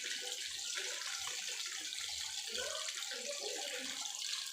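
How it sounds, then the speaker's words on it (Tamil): Rice sizzles and crackles in hot oil, a soft, continuous frying hiss heard faintly with no voices. "ரைஸ் பாருங்க ரைஸ் பொரிச்சிக்கிட்டு இருக்கு."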